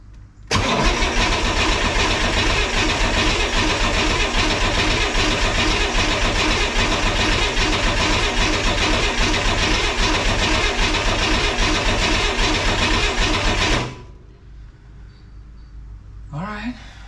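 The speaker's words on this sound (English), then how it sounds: "we're ready for a no coil start. So we'll just let it turn over and see what happens." A 1963 Corvair engine cranked with the coil disconnected, a loud continuous whirring turnover for about thirteen seconds that stops abruptly, followed by quiet with a brief sound near the end.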